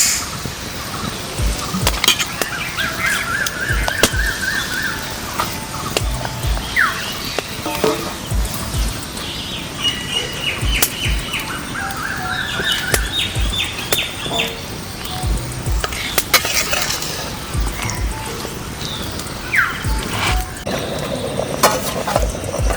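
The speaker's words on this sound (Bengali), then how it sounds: "তো বন্ধুরা আমাদের গ্রেভিটা ফুটে গেছে, তো এবার চিকেনটা দিয়ে দিচ্ছি আমরা" Chicken leg pieces cooking in boiling gravy for chicken chaap give a continuous dense sizzle and bubbling, with scraping and stirring clatter throughout and faint chirping tones in the background.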